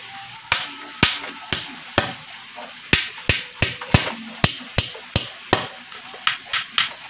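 Steady hammer blows driving 1.5 inch nails into wood to assemble a small DIY pond frame, about eighteen sharp, close strikes in an irregular rhythm, with no speech.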